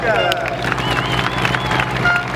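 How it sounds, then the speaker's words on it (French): Spectators at a junior buggy race in Stigny applaud the winner in a thick, continuous burst of clapping and crowd noise, with a voice talking over it. "Merci de faire un tonnerre d'applaudissements à M. Franck Radek."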